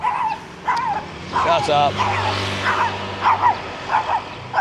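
A small dog on a Pattaya street gives a string of sharp, close yips and short barks, some whimpering, interleaved with a person talking over it.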